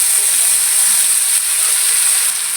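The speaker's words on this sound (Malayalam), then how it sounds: "ചൂട് വെളിച്ചെണ്ണ ഒഴിച്ച് കൊടുക്കുന്നുണ്ട്." Hot coconut oil poured into a stir-fry, a loud, bright, steady sizzle and hiss filling the whole moment, close by and alone.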